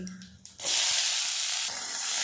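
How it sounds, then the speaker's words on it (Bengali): Chopped onion, capsicum and green chilli hit a little oil and burst into a loud, steady sizzle that carries on alone after a few quiet clinks of the pan, easing slightly before swelling again. "কিছুক্ষণ নাড়াচাড়া করে একটু ভাজা ভাজা করে নেব।"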